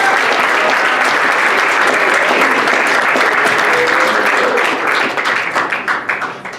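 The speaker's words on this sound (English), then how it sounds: "I would like to honor her and her team with a round of applause." Loud applause from diners at an evening school dinner event, dense clapping from many hands sustained at full strength, then thinning into scattered claps as it fades near the end.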